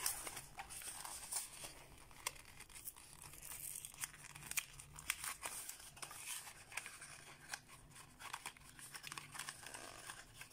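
CeraVe skincare cream packaging being opened up close, with quiet crinkling, tearing and snipping sounds of cardboard and plastic in irregular bursts, no speech.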